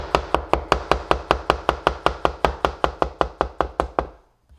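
A knife chops mushrooms into thin slices on a cutting board, making a steady, rapid run of about twenty evenly spaced crisp taps. The taps are close and clear and stop abruptly after about four seconds, with no talk.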